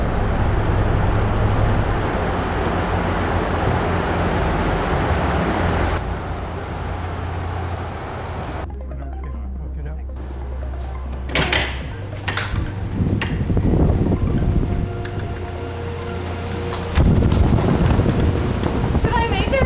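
Strong roaring wind at about 115 mph inside a real wind tunnel, a steady broad rush that drops abruptly partway through as the fan winds down, with shouting and talk over the lower hum afterward.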